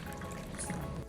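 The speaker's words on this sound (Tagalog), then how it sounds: "At this point, pwede na tayo maglagay ng sabaw." Shrimp broth made by simmering shrimp in water is poured into a pan of pancit canton guisado, giving a brief, steady wash of liquid and sizzle that lasts about a second.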